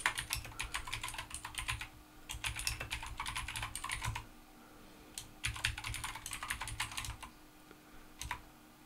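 Typing on a computer keyboard at a remote desktop, quick bursts of close key clicks separated by short pauses, with a faint steady hum underneath.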